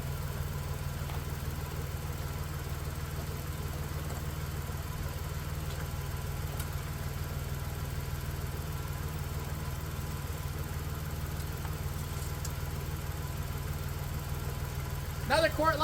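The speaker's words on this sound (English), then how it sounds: "Motor sounds really good though." A 1991 Dodge Grand Caravan engine idles steadily, a low, even rumble that holds at constant loudness throughout, with a brief clatter right at the end.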